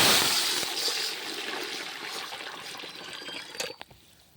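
Water poured into a pot of hot ghee with bay leaf, a bright hissing splash that fades over a few seconds, followed by a couple of light clinks.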